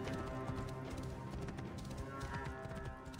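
Horses' hooves clip-clop in Assassin's Creed Origins, a steady trotting patter over dense game music and ambience, moderately loud and continuous throughout.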